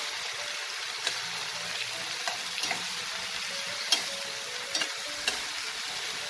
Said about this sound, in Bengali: টমেটোটা যতক্ষণ নরম না হচ্ছে ততক্ষণ আমি মশলাটাকে ফ্রাই করব।